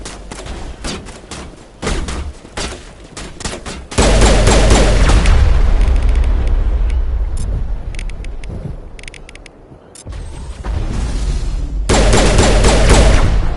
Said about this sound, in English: Manovai is under coordinated crossfire.